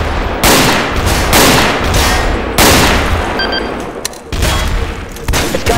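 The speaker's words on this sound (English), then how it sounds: "There's gunshots everywhere." Rapid bursts of gunfire in the Garry's Mod TTT game, several loud volleys in a row with short pauses between them and no talking.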